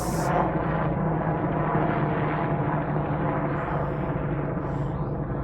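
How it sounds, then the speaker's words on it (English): An airplane passes overhead with a loud, continuous broadband roar that holds steady for several seconds, filling the scene with no speech on top. "let that plane pass."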